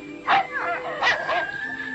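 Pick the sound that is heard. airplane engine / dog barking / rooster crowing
dog barking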